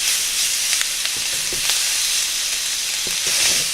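Pork and noodles fry in a pan with soy sauce, giving a steady close sizzle with scattered stir scrapes and small pops, no voices.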